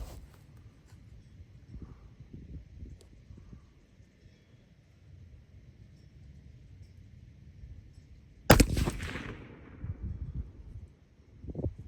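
A single sharp rifle shot from a bipod-mounted rifle with a Nightforce NX-8 scope cracks loudly about two-thirds of the way in, after a stretch of faint wind and handling noise outdoors.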